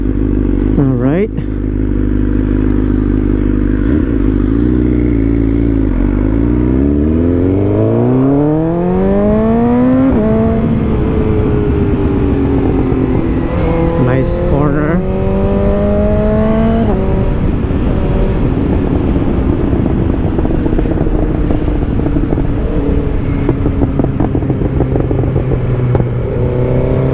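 A 2022 BMW S1000R motorcycle ridden on a road, its engine loud and close throughout, rising in pitch through several gear changes and then holding a steady drone under heavy wind rush.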